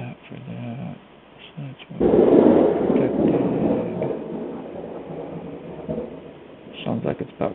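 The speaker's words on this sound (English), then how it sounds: "Sounds like it's about to storm here." Thunder from an approaching storm rolls in as a muffled low rumble, surging suddenly after two seconds and then fading slowly over the next few seconds, with softer rumbles before and after.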